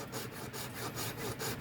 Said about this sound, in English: Once it's basically cutting through the thinness of that plastic, it will go so rapidly.